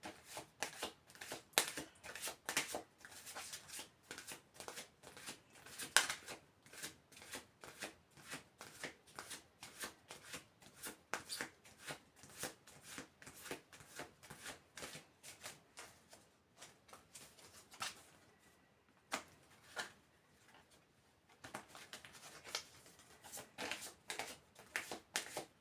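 Cards being shuffled by hand for a card reading, a long run of rapid, close riffling flutters in steady repeated bursts with a couple of brief pauses.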